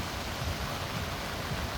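Light rain falls on a La Union beach while gentle, mild waves wash in, forming a steady, even hiss of water with no talking.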